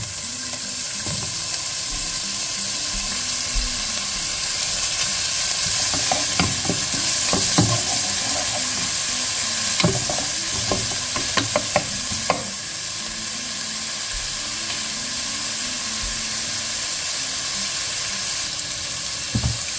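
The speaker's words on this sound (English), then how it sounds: "And then we're going to add our bacon and fry that off." Bacon fries in extra virgin olive oil in a non-stick pan with a loud, dense, continuous sizzle, and a cluster of sharp spatula scrapes and clicks breaks through in the middle before the frying hiss settles back.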